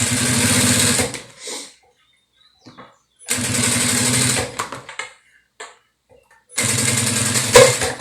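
A sewing machine stitches silicone for a beach bag in three loud, close runs of rapid mechanical chatter, each a couple of seconds long, with quiet gaps and small handling sounds between them.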